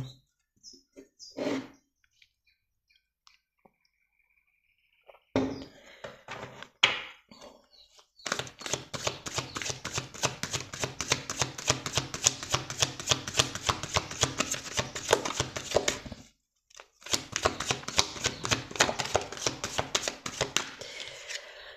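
Oracle cards being shuffled by hand, a few soft taps and rustles at first, then long runs of dense, rapid riffling clatter close by with a brief pause between bursts; no speech.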